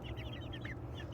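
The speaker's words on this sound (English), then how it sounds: "We have 7 little chicks in here." Chickens and little chicks cluck and peep together nearby, a quick run of soft high chirps over a steady low murmur of fowl.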